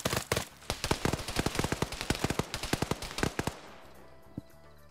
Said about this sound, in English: Wes now shooting at JoJo